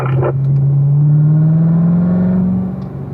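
A race car engine on a track holds a loud, close drone whose pitch climbs steadily as it accelerates, then falls away near the end as the driver lifts for braking. No voices are present.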